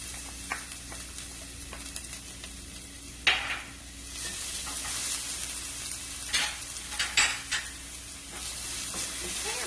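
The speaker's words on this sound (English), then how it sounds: "I have 2 tablespoons of oil. Give it a swirl. We're going to add in some garlic." Garlic sizzling in two tablespoons of hot oil in a heated pan for stir-fry noodles, a steady soft hiss broken by a few sharp bursts of stirring and pan scrapes, close up and without talk.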